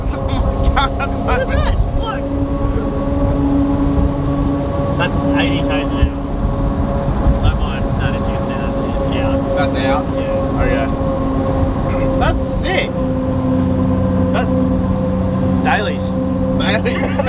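Large 35-inch tyres hum steadily on a moving Toyota Troopy with a 2-inch lift, a continuous droning road roar heard from inside the cabin, with intermittent clicks and a voice speaking throughout.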